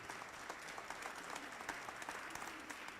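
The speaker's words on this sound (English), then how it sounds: "Y'all can give them a louder round of applause" Audience applause from students and a community crowd at a public discussion event, a steady dense patter of clapping heard faintly and from a distance, continuing evenly without voices.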